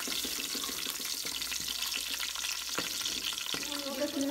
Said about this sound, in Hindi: बहुत ही लो फ्लेम के ऊपर, हल्की आंच के ऊपर हम लोगों ने इस लहसुन को फ्राई करना है